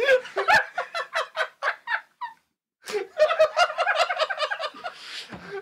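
A gobbling turkey ringtone plays in rapid bursts of gobbles, a pause, then another longer burst, fairly close and loud with no talk over it.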